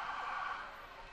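A brief stretch of an ambulance siren passing during a grand parade, a steady wailing tone heard at moderate distance that fades slightly toward the end.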